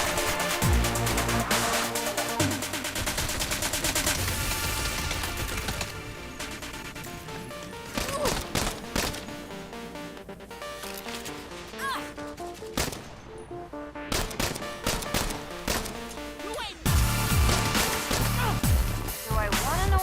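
Bursts of gunfire crackle through a loud, busy fight in the game Saints Row (2022), with rapid volleys and heavy impacts over a dense music-like backdrop.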